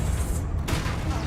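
A burst of a blasting Expulso spell in a Harry Potter video game, a sharp explosive crack with a crackling tail, loud and close, in a short intense moment.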